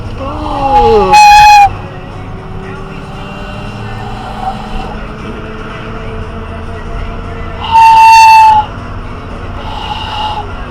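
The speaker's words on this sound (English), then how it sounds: "It's one nice train whistle." A wooden train whistle blown twice, several seconds apart, each blast a bright, breathy multi-tone hoot over a room with low background noise and faint voices between the blasts.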